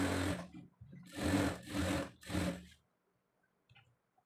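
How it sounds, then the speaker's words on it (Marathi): A sewing machine stitches saree lining to the main fabric in several close, whirring runs of about half a second each, with short stops between them, then goes quiet apart from faint handling noise. "आपण येथे साईडनी अस्तर आणि मेन फॅब्रिक व्यवस्थित असे स्टिच करून घेणार आहोत"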